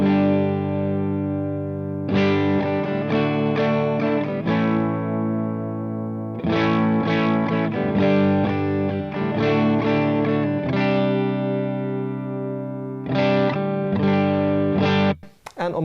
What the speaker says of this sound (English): I'm on the clean channel, and here's how it sounds.